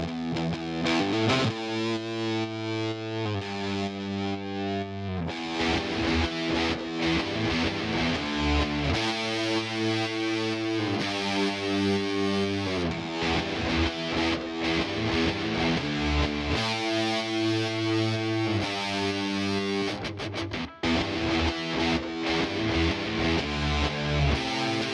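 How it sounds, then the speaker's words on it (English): Gritty, dirty distorted electric guitar tone from Guitar Rig plays dense chords and riffs for the whole stretch, thick and sustained with a brief dropout near the end, no voices. "Again, it's guitar rig. I really like that tone. Really gritty and dirty."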